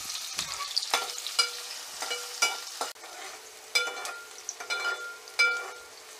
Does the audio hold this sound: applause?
no